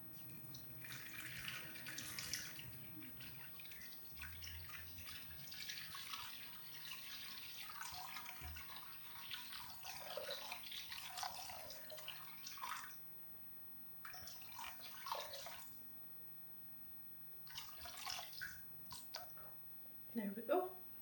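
Warm water trickles and splashes into a jug sitting on kitchen scales in quiet, intermittent bursts, with pauses between pours and a few faint clinks near the end.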